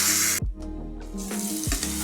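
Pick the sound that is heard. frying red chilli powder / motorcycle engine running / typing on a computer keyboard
frying red chilli powder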